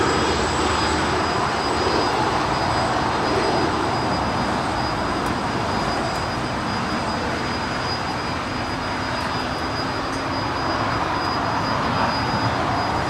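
An Emirates Airbus A380 on runway 24 left at a busy airport, heard as a continuous broad jet roar and hiss, steady and fairly distant, with a faint thin high tone over it and no voices.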